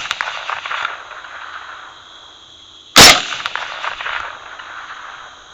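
A single sharp rifle shot at a hog 350 yards away rings out loud and close, cutting through a quiet background of faint wind and hiss.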